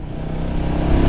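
A motorcycle engine rumbles steadily through its exhaust muffler in Jamaica, a low, throaty drone that grows slightly louder toward the end.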